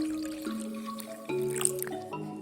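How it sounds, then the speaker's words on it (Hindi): Milk pours from a glass into semolina in a bowl, a close, bubbling stream with gurgling, shifting pitches and small splashy drips. "इसमें दूध ऐड करें 1 गिलास।"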